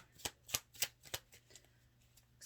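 Tarot cards being shuffled and drawn by hand, a run of crisp, evenly spaced slaps and flicks that fade out toward the end, close and fairly quiet with no talking.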